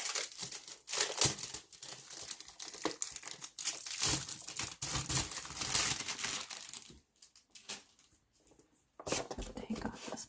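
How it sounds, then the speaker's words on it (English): Plastic or paper wrapping is crinkled and torn off a package of square oil-based colored pencils, a run of close crackling and rustling bursts that pauses briefly, then resumes near the end. "Take off this plastic or this paper."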